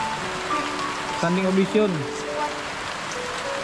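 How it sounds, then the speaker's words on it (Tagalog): Heavy rain pours steadily in the background while people talk and someone hums or vocalises over it, the downpour a constant close wash throughout. "pag ganitong malakas ang ulan"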